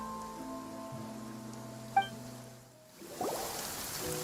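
Soft rain patters in a Genshin Impact video game cutscene, a faint continuous hiss under tonal music and a chime, growing slightly rougher toward the end.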